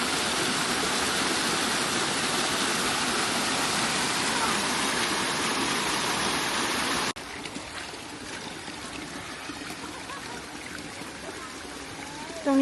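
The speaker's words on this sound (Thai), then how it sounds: "เป็นชั้นที่สองของน้ำตก" The Chanta Then waterfall in Thailand roars steadily as a dense broadband rush at its first tier, dropping to a softer, thinner flow partway through.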